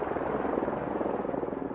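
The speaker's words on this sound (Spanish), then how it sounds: "el helicóptero de Bilham tiene permiso para aterrizar" A helicopter landing at a Tokyo heliport after an earthquake and tsunami, its rotor making a loud, close, steady rhythmic thumping throughout.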